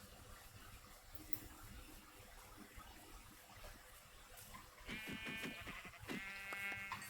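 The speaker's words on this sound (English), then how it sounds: "There's your sheep." Sheep bleat in a video game, two short harmonic calls near the end following a stretch of ambient background noise, moderately loud and without speech.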